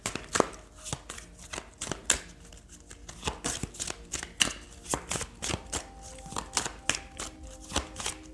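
Tarot cards being shuffled by hand in a quiet room, a steady run of crisp riffling slaps and soft flicks close to the listener, with no talk.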